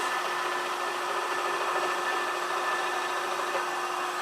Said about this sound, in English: let me turn off the vacuum here